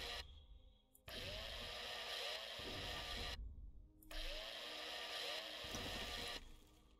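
Sustained, loud mechanical drilling from the video game Breathedge, running in two long bursts with a short pause between them, alone with no talk.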